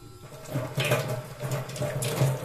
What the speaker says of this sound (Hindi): और पानी का जो फ्लो है वो बहुत ज़्यादा है, बहुत ज़्यादा।